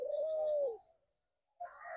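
A dove kept in a breeding cage gives one clear, close coo, then falls silent before a second call begins, with no talk around it.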